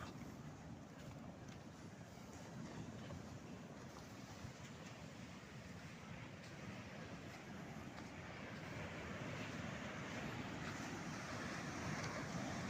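Sea waves washing onto a shore at night, a steady broadband roar of surf heard from a distance, faint and continuous, swelling slightly toward the end.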